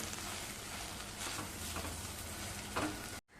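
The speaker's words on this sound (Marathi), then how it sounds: "हे बघा मसाल्याला छान तेल सुटलेलं आहे टोमॅटो सुद्धा छान मऊ झालेला आहे चांगलं एकदा परतवून घेऊया" Spice masala and softened tomato sautéing in oil for dal palak, a steady, even sizzle close by that holds level for about three seconds and then cuts off abruptly.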